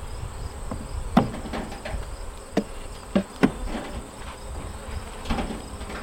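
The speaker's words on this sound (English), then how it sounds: "So I'm gonna shake these bees out, if they'll come." Honeybees buzzing in a steady low drone as they are shaken off a hive frame, with a few sharp knocks and taps of the frame cutting through.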